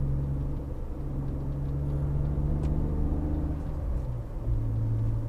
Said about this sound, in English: Okay, driving away.